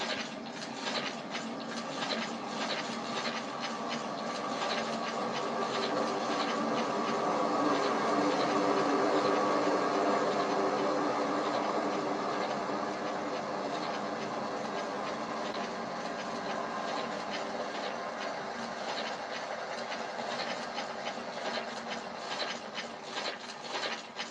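A train in Train Sim World 2020 on the Northeast Corridor near New York, a continuous loud rolling rumble with rattling, rhythmic clatter and metallic rubbing, steady throughout with no talking.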